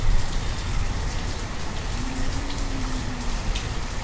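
Steady rain falls in the Banished village-building game, a dense, even hiss of drops on surfaces throughout, with a faint low tone drifting in briefly.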